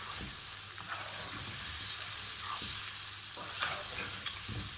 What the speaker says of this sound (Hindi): इसको 4 से 5 मिनट तक भूनना है ताकि मसाले इसी तरह इसके अंदर चले जाए।